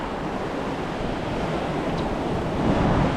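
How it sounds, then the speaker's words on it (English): The Youghiogheny River rushing over Railroad Rapids in Ohiopyle State Park, heard from the shoreline at about 6.4 feet of flow, a loud, dense, continuous roar of whitewater with no talk. "Railroad Rapids, Ohiopyle State Park, Youghiogheny River."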